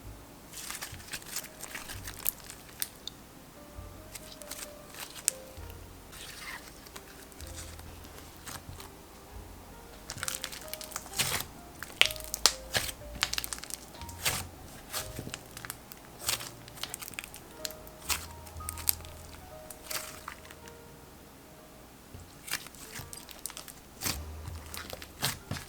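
Green-apple-scented slime being stretched, poked and squished, giving faint, close crackles, clicks and sticky pops scattered irregularly over a quiet background without speech.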